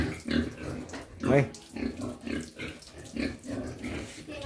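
A large, sociable farm pig, nearly two metres long, grunts repeatedly in short rhythmic bursts close by, while people talk over it.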